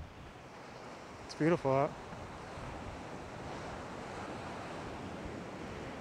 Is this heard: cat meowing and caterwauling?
no